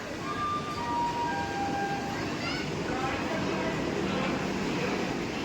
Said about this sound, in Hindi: ट्रेन आ चुकी है, वंदे भारत।